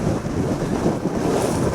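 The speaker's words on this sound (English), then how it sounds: "quite windy up here, if I'm honest, but it is hell of a view." Strong wind roars steadily across a Dartmoor hilltop near the summit hut on Steeperton, buffeting the microphone with constant loud rumbling gusts throughout, with no voices.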